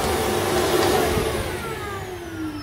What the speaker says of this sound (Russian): я пропылесосила ковер.